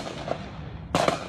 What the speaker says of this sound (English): Shots being fired